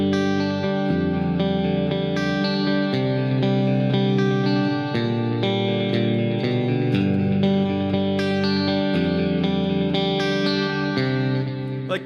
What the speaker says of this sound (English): Like that sounds like reverb, but it's not. It's just a bunch of delay.